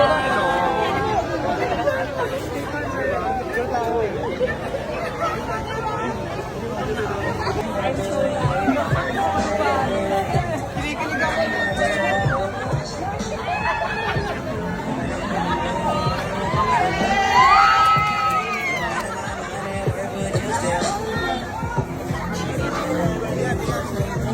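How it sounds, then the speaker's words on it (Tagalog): A large crowd of people shouts and chatters excitedly around a public figure, a dense, continuous babble of many voices with scattered louder calls and nearby talk mixed in. "Grabe, sigawan talaga yung mga tao."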